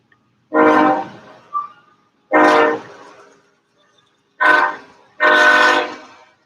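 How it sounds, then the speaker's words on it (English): A train passes behind a high school sectional baseball field, sounding four long, loud horn blasts close by with short gaps between them and no voices over it. "You'll hear the train."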